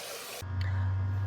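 Water poured into a container to make salt water for a homemade desalination setup, a loud steady rushing stream starting abruptly after a brief hiss and running on close to the microphone.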